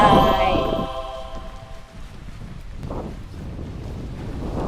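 Strong wind at Lake Lanao buffeting the microphone, a steady low rumbling roar that persists throughout, with a fading tonal sound at the start and faint voices underneath.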